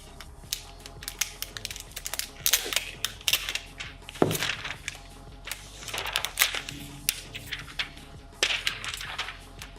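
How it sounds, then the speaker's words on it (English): Plastic protective foils being peeled and handled on a Samsung Gear S3 Frontier watch box, giving irregular crinkling, ripping and tapping bursts, close and fairly loud, with no talking. "We'll peel away these foils"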